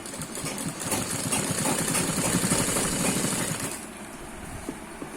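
A sewing machine stitches a frock with a fast, rapid mechanical chatter. It runs steadily for almost four seconds, then stops, leaving a quieter hum with light clicks.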